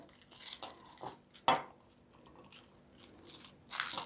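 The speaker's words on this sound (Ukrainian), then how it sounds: "Корінчики відрізаю і ріжу дрібнесенько." Spinach being finely chopped with a knife on a board, a handful of separate crisp cuts and thuds spaced irregularly, quiet and close, one sharper chop standing out.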